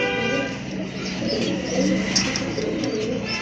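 A pair of pigeons coos in a steady, close, murmuring stream with no talk over it.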